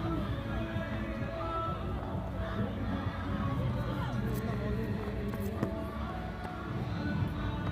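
A large crowd at a women's T20 cricket match between Pakistan and Ireland keeps up a dense, continuous roar of chatter and cheering that fills the stadium, steady in level for the whole stretch, with a commentator talking over it.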